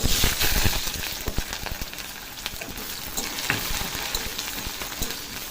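Onions hit hot oil, after green chillies and nigella seeds, with a loud burst of sizzling that settles into a steady frying crackle, punctuated by a few sharp clinks of stirring.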